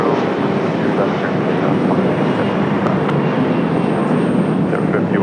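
Airliner taking off from runway 23 left at Raleigh Durham International Airport, a loud sustained engine roar from a distance, steady throughout, with speech over it.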